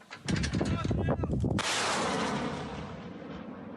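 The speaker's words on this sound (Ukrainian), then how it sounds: "для ударів більш потужних та прицільних у хлопців є самохідні арт-установки" A self-propelled artillery gun fires with a loud, sharp blast around the middle, followed by a long rumbling decay, after a burst of clattering, mechanical noise with voices at the start.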